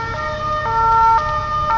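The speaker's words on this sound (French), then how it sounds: "on entend les pompiers" A loud, close emergency vehicle siren wails in a steady repeating tone cycle, the fire engine alone with no voices over it.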